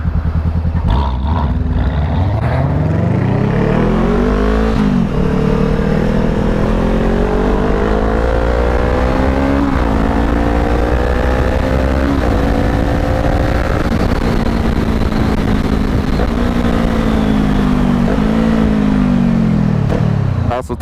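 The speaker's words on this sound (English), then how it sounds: "I'm gonna try and play with this Corvette if he wants to." A Chevrolet Corvette engine revs loudly and close by, climbing and dropping in pitch over and over in a series of repeated throttle blips.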